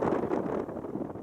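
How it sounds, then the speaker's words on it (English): Wind buffets a microphone outdoors at a canyon shooting range, a low, blustery rumble that swells and eases over a brief moment with no talking. "Pretty windy."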